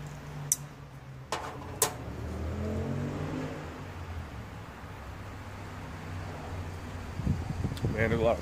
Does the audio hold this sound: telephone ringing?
no